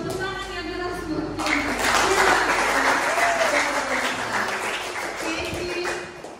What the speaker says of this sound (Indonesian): Tepuk tangan yang keras buat